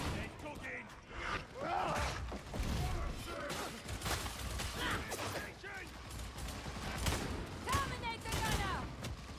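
Gunfire in the co-op shooter Warhammer 40,000: Darktide: repeated sharp shots and mechanical clanks amid chaotic battle noise, with players talking over it throughout.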